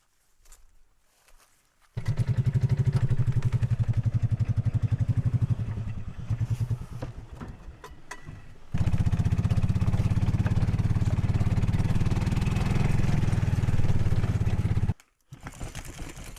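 Golf cart engine starts after a quiet moment and runs loud and steady close by, dipping briefly in the middle before revving back up, then cutting off near the end and restarting.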